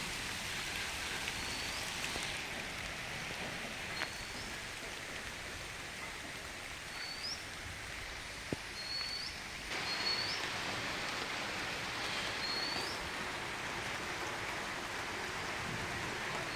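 Light, fine drizzling rain in Konkan, a soft steady patter spread evenly across the scene, with a few faint bird chirps and an occasional tap standing out above it.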